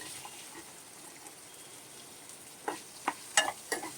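Paneer cubes fry in oil in a kadai with a steady soft sizzle, then a few louder clinks and scrapes from stirring toward the end, heard close with no talking.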